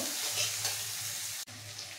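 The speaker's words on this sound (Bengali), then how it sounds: "1 টেবিল চামচ আদা রসুন বাটা, টমেটো কাঁচা লঙ্কা কুচি, খুব ভালো করে ভেজে নেব" Ginger-garlic paste, chopped tomato and green chili frying in a pan for chicken kosa, with a steady close sizzle and occasional stirring scrapes throughout.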